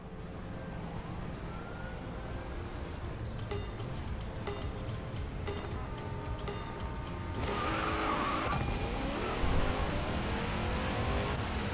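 Race car engine revving in the Racing Master video game, a Bugatti Veyron in sports class, with a sustained mid-level drone that rises and thickens near the end as tires squeal and skid during the launch.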